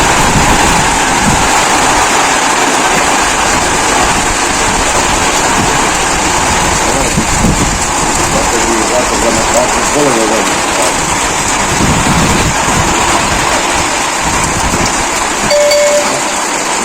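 Heavy rain from an approaching thunderstorm, a loud, steady roar of downpour hitting surfaces close by, with people talking faintly underneath.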